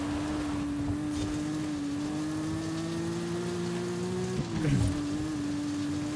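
A Subaru races against an Evo in the Forza Horizon video game, with a steady, sustained engine drone that briefly dips and shifts in pitch near the end, heard alone and fairly quiet.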